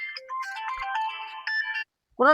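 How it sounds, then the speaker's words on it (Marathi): A mobile phone plays a melodic electronic ringtone close to the microphone, a bright run of beeping notes that cuts off abruptly, followed by a brief tonal sound. "फोन कुणाला आला?"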